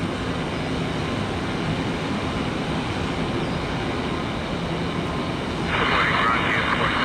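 Heavy jet airliners at Tampa International Airport give a loud, continuous broadband roar that holds steady and swells slightly louder near the end, with no other sounds breaking through.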